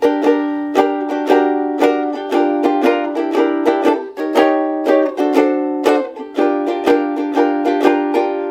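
A ukulele is strummed in a bright, rhythmic pattern playing a jazz standard, chords ringing close and loud with crisp repeated strokes and shifting jazzy harmonies.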